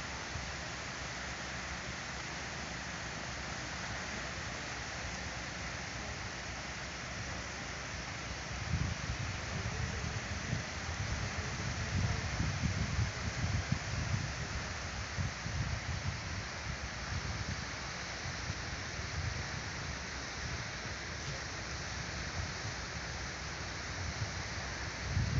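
Wind rushes steadily at the seaside while waves surge and wash in a broad, continuous roar, swelling slightly in the middle stretch, with no one talking.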